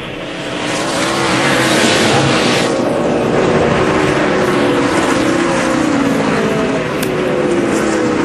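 NASCAR race cars at Watkins Glen in 2011 roar past near the bus stop section, a loud, continuous wall of engine noise that swells and holds steady for the whole stretch, with no talking.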